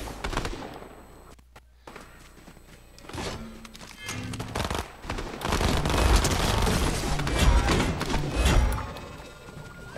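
Fortnite gunfire, with scattered shots and thumps early on and then a sustained, loud stretch of rapid popping blasts and impacts, close and chaotic with no speech.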